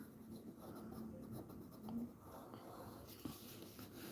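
Faint pencil or brush strokes scratch softly across paper while a knee fold is drawn for an anime-style figure, quiet and close, with a small tap near the end.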